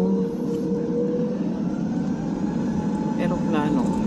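Loud, steady airplane engine drone with a sustained whine, building gently as if readying for takeoff on the runway at Manila International Airport.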